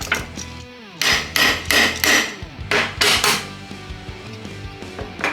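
A ball peen hammer delivers a series of sharp, ringing taps on wood with a metallic edge, close and loud, in irregular clusters with short pauses and no speech.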